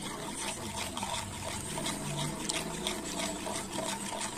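Salt being stirred into water to dissolve it, a soft continuous liquid swishing and faint clinking, quiet and close, with no speech.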